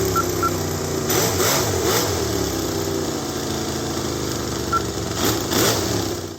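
A Toyan V8 model engine runs in a 4WD RC monster truck with a three-speed transmission, a loud, close, buzzing idle that rises in two revving bursts.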